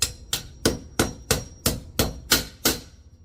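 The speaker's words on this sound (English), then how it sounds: "Now how do we tap it in there? We use a hammer." A hammer taps a wall mounting plate for an EG4 inverter and battery into place, nine sharp evenly spaced metallic knocks in quick succession, close and clear.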